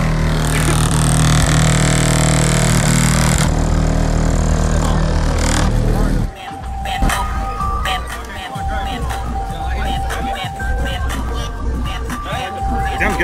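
Subwoofers in a power toy car audio system, booming heavy bass played loud for several seconds before cutting out, followed by people talking outdoors over quieter background noise.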